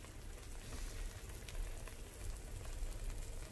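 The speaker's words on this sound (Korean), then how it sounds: "지글지글 끓는다" A soft, steady sizzle hisses continuously from a potato tortilla pizza cooking in a covered pan on the lowest heat, faint and even, with small popping crackles scattered throughout and no voices.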